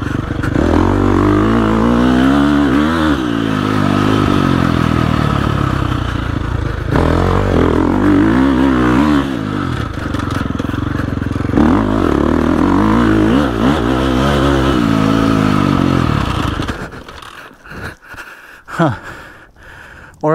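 A dirt bike ridden through turns on a trail, its engine loud and close, revving up and easing off in waves as the rider slows for each corner, then dropping away to quieter bursts near the end.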